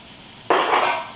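Corn in a pan gets a quick stir, a sudden close metallic scraping and rustling that starts after a short quiet moment and lasts under a second.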